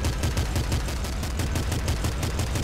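Rapid, continuous gunfire from the top-down shooter Nuclear Throne, a loud, fast stream of evenly spaced shots with no pauses.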